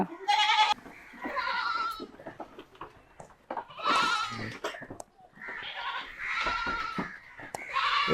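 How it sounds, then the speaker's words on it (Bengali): Several Beetal goats bleat in overlapping bursts on a goat farm, some close and loud, others farther off, with brief pauses between calls. "ছাগল বা ছাগলগুলো বেরোচ্ছে"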